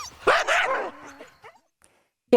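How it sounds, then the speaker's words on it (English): Sled dogs barking and yipping eagerly, a short burst of close, excited barks that fades into near silence. "As for the dogs, they sound as ready as ever to go the distance for Jan and Tyler too."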